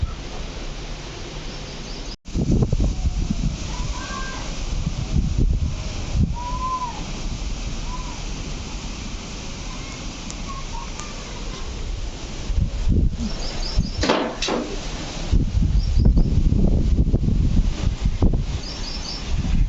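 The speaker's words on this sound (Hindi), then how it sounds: "तो इतनी ज़ोरों से हवा आ रही है" Strong afternoon wind roars steadily, swaying trees, gusting and rising at times, with rustling leaves and a few faint bird calls in the background.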